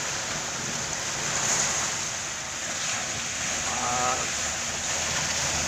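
Rough sea surf washes in on a drizzly, overcast day, a continuous roar of waves with gusts of wind buffeting the microphone, moderately loud and steady, with no speech.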